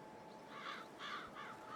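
Crows caw in the Farming Simulator 22 video game as a vehicle crosses a field, three or four harsh calls at a steady pace, moderately distant over a soft engine hum, with no talk.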